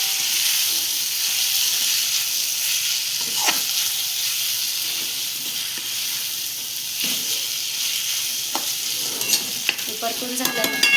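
Jackfruit with vegetables, red chilli and black masala sautéing in a pan gives a continuous soft sizzle and hiss, with occasional spatula scrapes and clinks toward the end, close and without speech.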